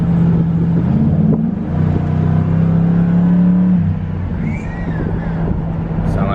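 A Ford Crown Victoria engine revs loud and close from inside the car, a steady droning pitch that climbs and falls, with a voice speaking briefly over it.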